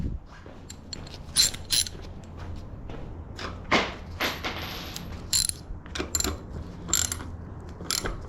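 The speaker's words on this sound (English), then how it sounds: "Find my ratchet." A ratchet wrench tightens bolts on an Ariel Rider X-Class dual-battery 52-volt electric bike, giving close, uneven runs of clicking ratchet strokes mixed with metallic handling noises.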